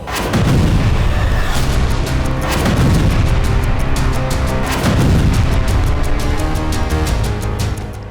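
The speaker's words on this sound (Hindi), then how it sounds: "यूक्रेन के इस हमले के बाद पूरा क्रीमिया धमाकों से गूंज उठा।" Dense, continuous rumbling blasts and booms from missile and sea-drone strikes on the Black Sea naval fleet at Sevastopol, Crimea, loud and sustained with repeated heavy impacts and no pauses.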